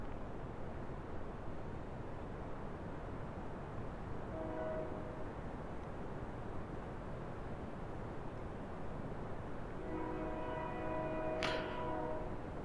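Train rumble in Kerbal Space Program, a steady low roar throughout with two brief horn-like tonal bursts, one near the middle and a longer one toward the end, no talk.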